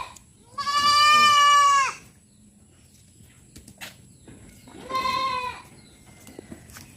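A sick goat bleats twice at close range: a long, strained cry followed by a shorter one, with quiet shuffling between the calls.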